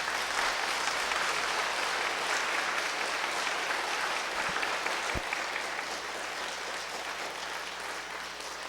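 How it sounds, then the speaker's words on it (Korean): Loud, sustained welcoming applause from a congregation at a Sunday service in a Won Buddhist temple, even clapping throughout with a faint thump partway through. "환영의 큰 박수 부탁드립니다"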